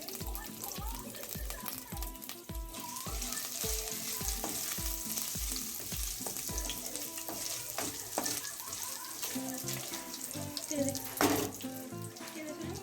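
Chopped coconut fries in oil with cumin seeds in a wok, a steady close sizzle broken by a regular series of low knocks from stirring, with a faint voice and kitchen clatter behind.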